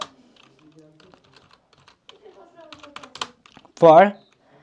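Light, scattered clicks of a computer keyboard as Python code is typed, faint and irregular, with someone speaking briefly and loudly near the end.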